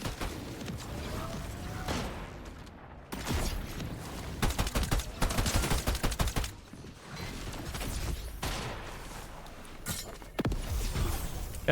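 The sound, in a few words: gunfire in the video game Fortnite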